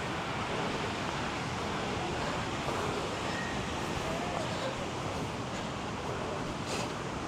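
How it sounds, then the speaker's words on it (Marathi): A waterfall spills down from above Kondeshwar Temple in Badlapur, a steady, dense broadband rush of falling water that fills the scene without letup, with wind buffeting the microphone at times. "या ठिकाणी जो मंदिराच्या वरतून जो धबधबा येतो"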